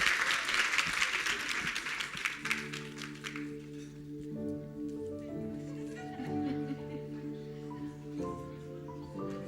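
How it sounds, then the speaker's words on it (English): Audience applause at a Women in Tech Africa awards ceremony, a burst of clapping that fades within a few seconds as steady music takes over. "Another wonderful, warm round of applause for Zuwaina, everybody."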